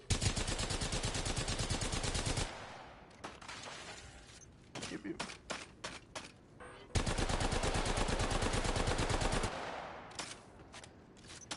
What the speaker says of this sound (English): How far do you think you could fry this dummy with the Havoc?